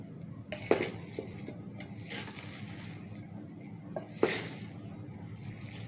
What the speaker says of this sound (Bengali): এখন আমি আপনাদের সার্ভ করে দেখাচ্ছি।